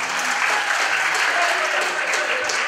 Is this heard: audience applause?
yes